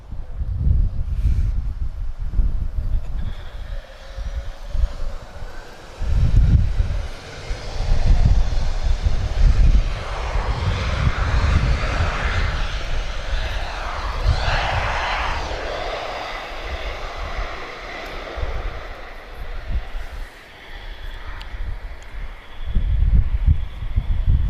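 Fixed-wing airplane at Lisbon Airport, its engine roar steady and fairly loud throughout, swelling and easing like a jet taxiing or passing at a distance, with no talk.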